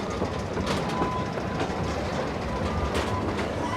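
The Pleasure Beach Express ride train at Blackpool Pleasure Beach rolls along its track with a steady rumble and clickety-clack, wheels rattling continuously at close range without talk.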